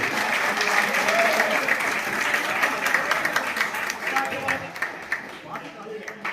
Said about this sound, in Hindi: जोरदार तालियों के साथ है स्वागत करें।